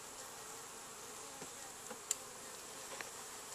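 Honeybees humming around a newly established hive, a faint, steady buzz with occasional slightly louder passes close by, no voices.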